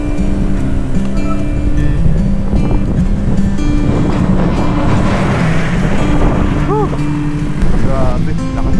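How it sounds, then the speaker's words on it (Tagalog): Strong headwind buffets the microphone on a boat trip from Manila to Aparri, a constant loud roar with engine hum and water wash beneath, while people talk in the background. "Grabe, lakas pa rin hangin."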